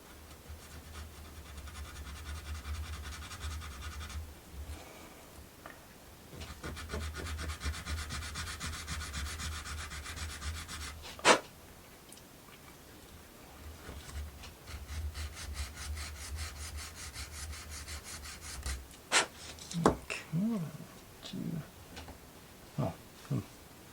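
A hand file rasps against a wooden book nook part, long stretches of steady scraping strokes close by, broken by pauses, knocks and handling noises with no talking.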